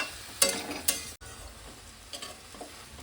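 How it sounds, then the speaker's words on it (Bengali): Water spinach is stir-fried in a hot pan, with a close, continuous sizzle broken by quick scraping stirs of the spatula. "শাকটা দিয়ে আমি মিনিট 2 একটু ভালো করে নেড়ে নেব"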